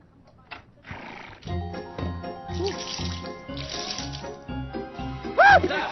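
A horse neighs loudly near the end, a rising-then-falling whinny over a busy scene of music and people talking.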